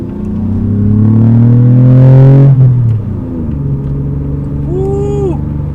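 Lexus ES250 engine and exhaust tone inside the cabin with the windows up. A loud, steady low hum rises in pitch and then drops back to a settled drone, with a brief faint chirp near the end.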